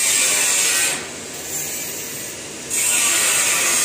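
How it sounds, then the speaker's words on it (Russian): Metal being sawn by a power tool, a loud harsh grinding whine that drops to a lower, duller rasp in the middle before surging back to full pitch, with no talk. "а они пилят, и металлическая пыль, видите, летит"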